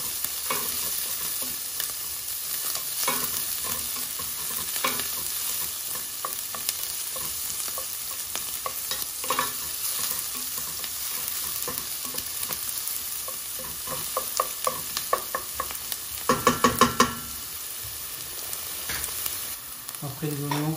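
Onions fry in a mix of olive oil and ordinary oil in a pan. A constant close sizzle runs throughout, broken by scattered clinks of the stirring utensil and a busier burst of scraping near the end. No one speaks.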